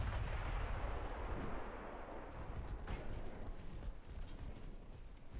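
Warship main guns fire in the naval battle game Ultimate Admiral Dreadnoughts, giving faint, muffled booms within a continuous low rumble of battle noise, quiet throughout.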